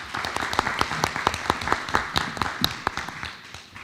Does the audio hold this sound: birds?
no